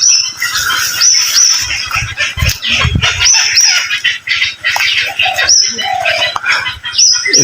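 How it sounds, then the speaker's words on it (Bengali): Many birds chirp and twitter close by while pigeons coo in low, rhythmic pulses, in a dense wooded spot resembling a mini mangrove forest, lively and continuous. "পাখির কিচিরমিচির যে আওয়াজ"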